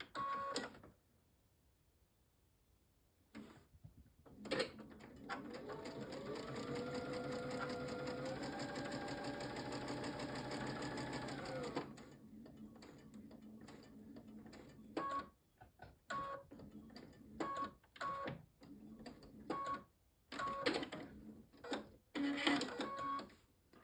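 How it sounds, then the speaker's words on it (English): A sewing machine runs steadily for about seven seconds, stitching a tumbling block quilt seam out to the corner, then stops; afterward come scattered light handling clicks and fabric movements, close and fairly quiet, with no talk. "Start sewing exactly at your marked point and sew out to the corner"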